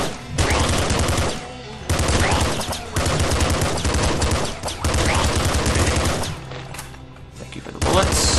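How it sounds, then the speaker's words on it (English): Rapid submachine gun fire in the top-down shooter Nuclear Throne, long loud bursts of automatic shots with short gaps between them, layered with game effects and music. "SMG has terrible accuracy."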